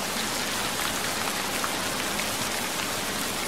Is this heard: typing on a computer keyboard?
no